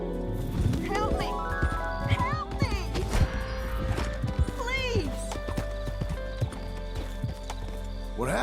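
Horse hooves clip-clopping steadily while riding in the video game Red Dead, a continuous close rhythm mixed with game ambience and music, with a voice talking over it.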